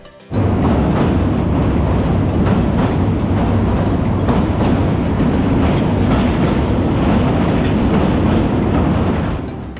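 The Parabat Express to Sylhet runs at speed, its loud, dense rumble rising abruptly at the start and holding steady with faint wheel clatter, no voices.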